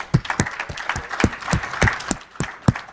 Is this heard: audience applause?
yes